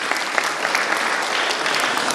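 A congregation at a Christian quiz session gives loud, sustained applause for a woman who answered correctly. The clapping is an even, crowded wash from start to finish, with no talking on top.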